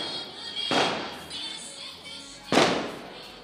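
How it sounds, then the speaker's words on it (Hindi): Two firecrackers go off outdoors at night during a lamp-lighting event, two sharp bursts nearly two seconds apart with a lingering crackle and rumble, heard from moderately far. "और यहाँ कुछ लोग पटाखे वगैरह भी जला रहे हैं"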